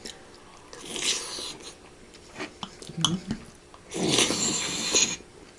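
Chewing a butter braised beef rice bowl with plenty of meat: soft, wet bites and mouth sounds in a few close bursts, with utensil clinks and brief pauses between.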